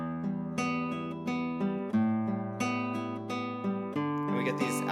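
A classical guitar study from the Christopher Parkening method is plucked with heavy accents that push a strong three-beat pulse. The picked notes and low bass ring clearly and close, with no talking.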